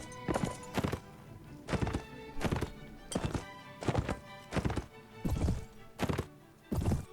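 Horse hooves in Mount & Blade Warband, set in the 1776 American Revolution: a steady run of heavy, thudding clip-clop beats in regular pairs, close and prominent, with no talk.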